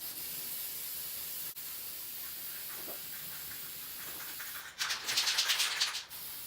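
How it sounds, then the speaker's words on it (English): Spray paint going onto a DIY canopy, a faint hiss under a steady background, then a louder close burst of spraying lasting about a second and a half near the end. "Don't want to overspray and have drips and whatnot at the final stages."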